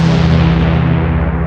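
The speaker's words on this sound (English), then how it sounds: "played around with some random sounds like this synthwave retro sound" Synthwave retro synth tone made in FL Studio, a loud sustained buzzy chord with a strong low drone that holds steady while its brightness slowly fades.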